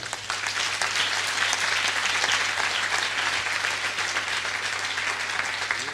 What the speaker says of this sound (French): je veux qu'on applaudisse tous très fort maintenant